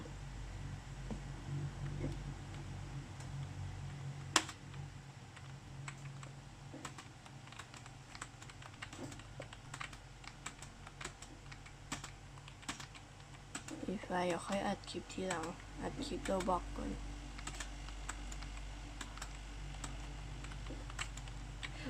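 Scattered, fairly soft key clicks from a computer keyboard acting on its own recur across the stretch, with a person talking in the middle and low background hum throughout.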